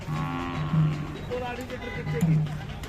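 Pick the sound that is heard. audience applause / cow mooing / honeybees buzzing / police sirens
cow mooing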